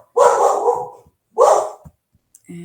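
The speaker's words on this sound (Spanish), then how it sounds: "es mi compañero de ladridos" A dog barks twice, loud and close, with a short pause between the barks, during a calculus class on graphing functions.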